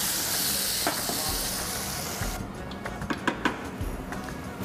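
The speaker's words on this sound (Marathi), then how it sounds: "आता ह्यात आपल्याला पाणी टाकायचं. हे गरम पाणी." Hot water is poured into a hot frying pan of browning food and sets off a loud steaming sizzle. The hiss fades and gives way to lighter crackling and a few clinks.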